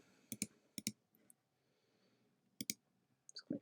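A computer mouse clicking, quiet close double clicks in a few separate bursts with near silence between them.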